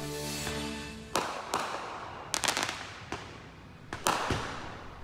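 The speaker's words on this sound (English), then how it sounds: "authorities say more fireworks are going off" Fireworks booming around a residential neighborhood in early July: several sharp, loud cracks and bangs arrive at irregular intervals, each trailing off quickly over a steady background hiss, with no voices.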